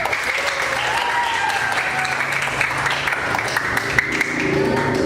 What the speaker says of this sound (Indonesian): berikan tepuk tangan yang luar biasa bagi kelompok 1